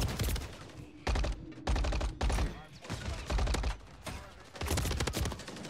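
Rapid gunfire bursts from a Call of Duty Modern Warfare III ranked match, several loud automatic volleys separated by short pauses, with a player talking intermittently over the shooting.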